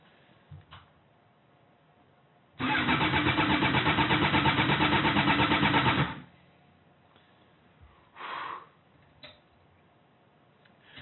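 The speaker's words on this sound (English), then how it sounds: "I hope this bike will start." A motorcycle engine left in long storage cranks and catches, running loudly for about four seconds before cutting out. A quieter brief burst follows afterward.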